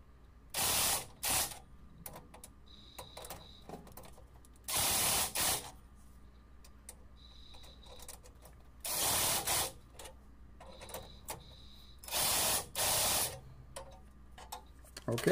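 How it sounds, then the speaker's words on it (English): Exhaust lap joint clamps on a Range Rover L322 tightened with a hand ratchet: several loud bursts of rapid clicking, each about a second long, separated by quieter pauses with faint ticks. "we're ready to put a good torque on these 2 lap joints"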